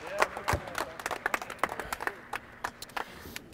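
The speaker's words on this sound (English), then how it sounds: "Clap it up." A group of players clap in a quick, uneven burst during a basketball workout in a gym, sharp hand claps overlapping and close by, with a voice calling out among them.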